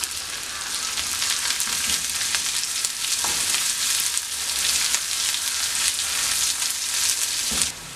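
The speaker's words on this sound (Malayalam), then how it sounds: "ഇതിലേക്ക് നമ്മളിവിടെ ചതച്ചെടുത്ത ഇഞ്ചി, വെളുത്തുള്ളി, കുരുമുളക്, ജീരകം ഇതെല്ലാം കൂടെ ഇതിനകത്തേക്ക് ഇട്ട് ഒന്ന് മൂപ്പിച്ചെടുക്കാം." Crushed ginger, garlic, black pepper and cumin fry in hot oil for buttermilk rasam, a steady close sizzle with faint stirring scrapes and a couple of soft knocks.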